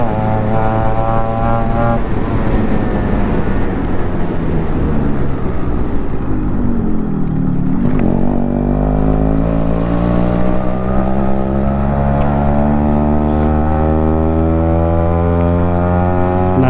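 A Yamaha RX-Z five-speed motorcycle fitted with a four-speed silencer is being ridden, its loud two-stroke engine droning continuously up close. The revs fall away midway, then climb again through rising gear pulls.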